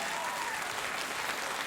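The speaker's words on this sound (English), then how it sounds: "applause break" A late-night talk show studio audience applauds: steady, dense clapping that fills the room and holds at an even level throughout, with no pauses.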